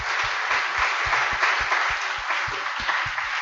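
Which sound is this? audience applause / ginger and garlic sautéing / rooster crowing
audience applause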